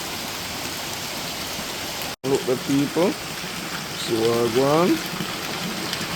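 Rain falling and water running off a house in Portland, a steady broadband wash of droplets and runoff throughout, with people talking over it intermittently.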